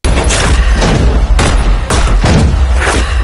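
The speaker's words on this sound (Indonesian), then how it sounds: "Singham keluar membalas tembakan itu." Loud, dense gunfire from an Indian police action film shootout, rapid overlapping shots and booming bursts in a sustained barrage with sharp peaks, no speech over it.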